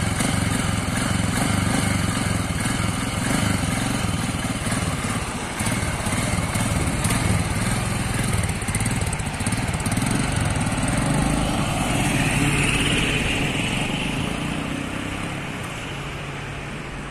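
A Royal Enfield Himalayan motorcycle engine runs in first gear with a steady, loud, buzzing drone held close throughout, easing slightly softer toward the end, with no talking.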